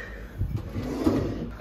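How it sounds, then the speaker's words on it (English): A kitchen drawer in an empty apartment slides open or shut, a short muffled rumble with a soft thump midway, fairly close and clear with no talk. "we've got some shallow drawers, some medium drawers,"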